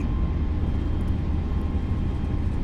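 Airbus A320neo engines spooling at takeoff power in Microsoft Flight Simulator 2020, a steady, loud broadband roar with a thin tonal whine, constant throughout with no voices.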